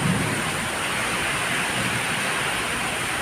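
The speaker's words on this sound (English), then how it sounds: "this midsummer, it's raining" Rain falls steadily outside a balcony in midsummer, making an even, dense hiss that stays constant and fairly loud throughout with no voices.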